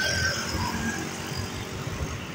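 Cars passing along a road beside a park in Rawalpindi, a steady broadband vehicle rumble and traffic noise filling the moment, fairly loud and continuous with no voices.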